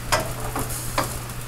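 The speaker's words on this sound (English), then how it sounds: "Let's stir that garlic around." Garlic sizzles in a hot frying pan while a utensil stirs it in two or three quick scraping strokes over the steady crackle of oil.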